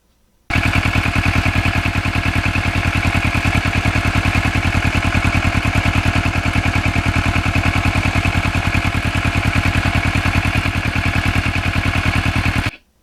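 A restored Kawasaki Ninja 650R motorcycle engine runs steadily and loudly for the whole ride on scenic switchback roads, with a rapid even firing pulse and a constant drone and no talk.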